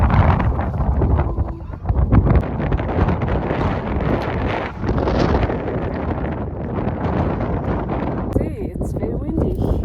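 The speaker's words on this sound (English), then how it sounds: "See, it's very windy." Strong, gusting wind on a trek up Mulhacén buffets the microphone in a steady loud roar for the whole stretch, with brief voices faintly under it.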